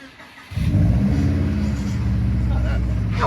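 A 2001 Subaru Forester fitted with an STI drivetrain cranks and catches after a short pause, then settles into a loud, steady close-up idle rumble.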